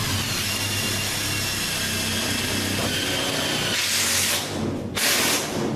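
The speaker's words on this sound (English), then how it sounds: "when you're drilling it, kind of get your drill at an angle" Power drill boring into HVAC sheet metal, a loud continuous whirring and hissing grind lasting several seconds, with two brief rougher bursts near the end and no talk.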